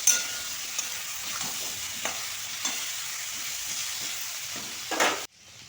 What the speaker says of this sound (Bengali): আলুটা প্রায় ভাজা হয়ে গেছে, প্রায় নয় ভাজা হয়ে গেছে আলুটা পুরোপুরি সুন্দরভাবে